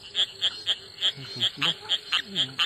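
A striped rocket frog chirps: short bright chirps repeat in a steady rhythm, close by, with a few soft low calls between them.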